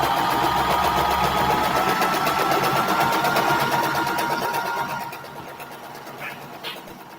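Sewing machine stitching a foundation paper pieced flower quilt block, running loud and continuous with a fast steady needle rhythm, then slowing and quieting toward the end.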